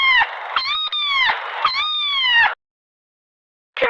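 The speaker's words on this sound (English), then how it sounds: "That is correct. It's a cat." A cat meows repeatedly, with several clear, tonal, drawn-out meows running close together and loud. After a short silence, one more meow begins.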